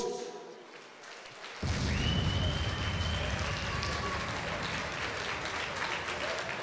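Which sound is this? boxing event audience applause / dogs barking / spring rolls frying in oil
boxing event audience applause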